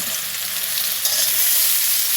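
Sliced cucumber fries in hot oil with freshly added green chillies and chopped onion, a loud, dense, steady sizzle close up, with light stirring and no talking.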